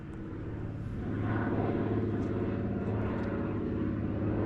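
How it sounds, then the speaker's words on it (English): A float plane flies in to land on a lake during a canoe trip evacuation, its propeller engine droning steadily and growing louder as it approaches, with no voices. "I hear a float plane. That's a float plane."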